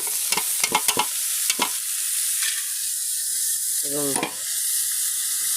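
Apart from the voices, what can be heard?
cumin seeds sizzling in hot oil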